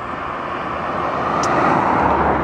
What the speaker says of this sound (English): here comes one of these fast, small European cars